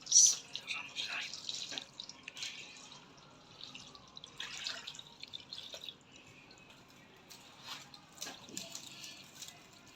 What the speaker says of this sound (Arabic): بصوا نزل الشرش بتاعها، كل ده هصفيه دلوقتي